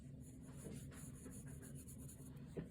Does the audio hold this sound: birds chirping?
no